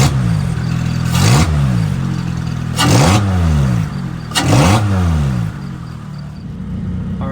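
A Lotus Elise with a 2ZZ-GE engine, custom cold air intake and Sonic Fury exhaust revs hard three times, each blip rising and falling in pitch, with a loud exhaust rumble idling between.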